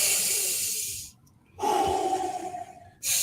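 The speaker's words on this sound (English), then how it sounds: "Hold on, I had to do some breathing right quick." Heavy breathing, close and loud: a long rushing exhale, a short pause, then a deeper, voiced breath, and another sharp intake right after.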